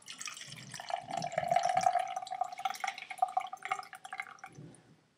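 Brewed coffee trickles and drips through a filter in a quiet, uneven stream lasting several seconds before it tapers off.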